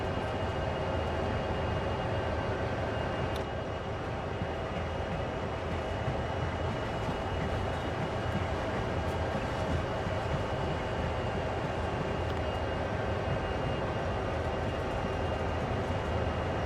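A CSX heavy haul locomotive running light engine without a train in Train Sim World, giving a steady, loud diesel rumble with rolling wheel noise and faint rail clicks throughout.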